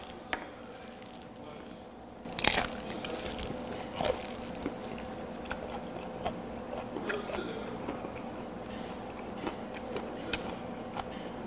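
Gizzard shad sashimi eaten bones and all, heard as soft close crunching and wet chewing bites scattered through a quiet stretch, with no talking.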